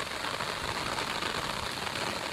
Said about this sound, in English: it is pouring down some rain